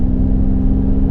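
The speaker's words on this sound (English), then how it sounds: "I also really like this droney exhaust sound that you hear." A 2023 Toyota 4Runner TRD Pro boxy off-road SUV with a steady, loud, droning exhaust hum, heard close and continuous for about a second.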